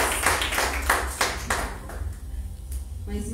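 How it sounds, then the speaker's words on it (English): A church conference congregation claps hands in a brisk burst of sharp, fairly close claps during the first couple of seconds, which then thin out into scattered taps and murmuring voices. "Clap hands"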